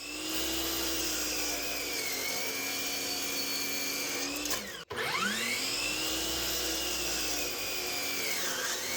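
A miter saw cuts through wood with dust collection switched off, its motor holding a loud, steady high whine that briefly dips and recovers midway before running on.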